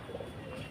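A soft, low pigeon coo heard briefly at close range over a faint background hiss, as pigeons are hand-fed and eat.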